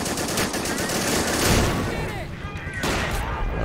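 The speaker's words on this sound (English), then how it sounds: "Two 75mm guns just pounding away." Two 75mm guns firing repeatedly in the Men of War: Assault Squad battle at a captured Saipan airfield, dense rapid gunfire and booms rolling continuously amid battle noise.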